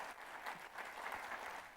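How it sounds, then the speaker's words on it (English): Audience applause at a STARWEST 2023 software testing conference keynote, a steady wash of clapping from a crowd lasting under two seconds, fairly quiet and distant with no voices over it. "Huge round of applause for everybody."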